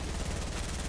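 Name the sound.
gunfire in a video game, Fortnite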